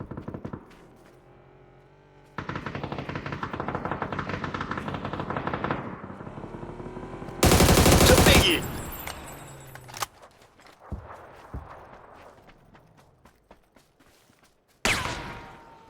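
Gunfire in the battle-royale video game PUBG, with rapid automatic bursts, a loud dense volley in the middle, then scattered single shots and a final sharp burst, mixed with in-game mechanical sounds.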